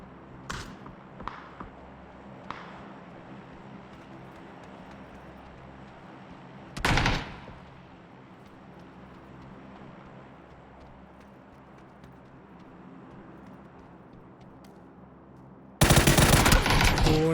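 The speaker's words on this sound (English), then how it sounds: "nice shots coming out from both sides" Gunfire in the battle royale game PUBG: a few sharp distant shots, then a louder single report, a long quiet stretch, and finally a dense burst of close firing.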